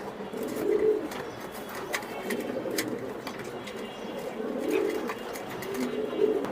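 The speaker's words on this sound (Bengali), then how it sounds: "দেন ব্ল্যাক একদম কুচকুচে ব্ল্যাক দুটোটা কবুতর" A mated pair of black dragon pigeons coo in low, rolling, repeated phrases close by, with faint chirps and rustling between calls.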